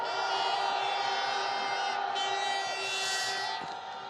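A large outdoor rally crowd at a candlelight protest in a public square roars in a sustained, loud cheer that stays dense throughout and fades slightly at the end.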